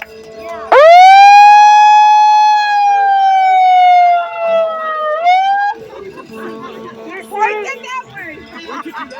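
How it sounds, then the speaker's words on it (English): A loud, close siren wails in a long rising and falling tone at an outdoor rally at 59th Street and 2nd Avenue, New York, then fades into a jumble of lighter siren bursts and background noise. "See, we have the sirens too."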